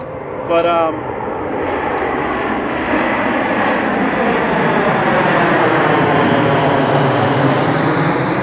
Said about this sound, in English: the planes, no planes all day, but now, of course, they're coming hot and heavy.